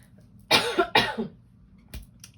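Two sharp, loud coughs close together, then a fainter third cough a moment later, with quiet in between.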